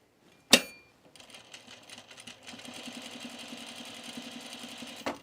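Sewing machine binding the edge of a V-neck coat: a sharp click, then the motor starts and runs in a steady rapid whir that speeds up partway through, close and unaccompanied by talk.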